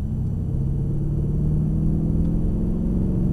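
A Mercedes CLS63 AMG engine pulls steadily on a race track, a loud, continuous low rumble building under gentle throttle with no talk over it.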